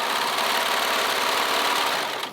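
A sewing machine runs steadily while stitching elastic into a seam of a bubble hem dolman top, a continuous close mechanical whir that eases off slightly at the end.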